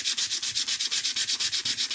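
A wooden sign's edges are hand sanded in quick, steady back-and-forth strokes, each rasping pass close and evenly rhythmic with no talk.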